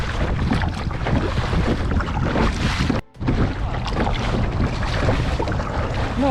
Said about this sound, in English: Now we are kayaking next to the Delimara power station.